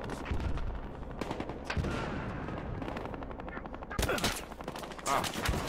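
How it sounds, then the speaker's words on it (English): Dense, continuous automatic gunfire and rapid shots in a 64-player team deathmatch in Battlefield Hardline, loud bursts layered over one another with sharper cracks near the end. "I'm getting shot in the back."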